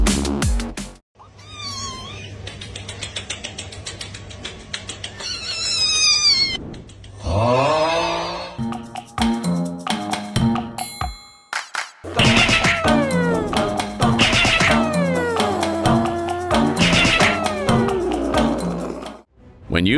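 A hungry house cat meows loudly and repeatedly, close to the listener, in insistent, drawn-out cries that sometimes rise into wails and keep going almost nonstop.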